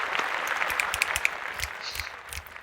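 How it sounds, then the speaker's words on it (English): A canned applause sound effect dropped into a podcast, a crowd clapping steadily at moderate volume and thinning slightly toward the end, with no voices over it. "I'm gonna put some applause right now."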